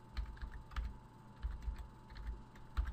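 Typing on a computer keyboard while entering a command into the Windows Run box: quick, light key clicks in short irregular bursts, close and fairly quiet, with no talking.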